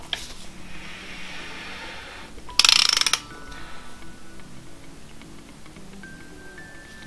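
A ratchet turns the crank pulley on a turbocharged Mazda MX5 engine, with a quick loud burst of clicking pawl ratchet strokes midway through an otherwise quiet garage scene and no speech.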